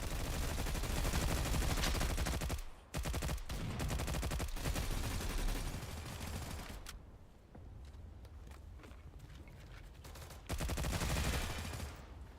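Rapid bursts of automatic gunfire from an online multiplayer shooter game, loud and sustained, with a brief dip near three seconds and a quieter stretch before the shooting swells again.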